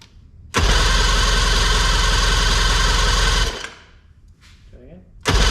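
Outboard boat engine on a boat in extremely bad condition, choked and then started: it fires up loudly and runs with a steady roar for about three seconds, then cuts out, leaving a faint sputter before it briefly catches again.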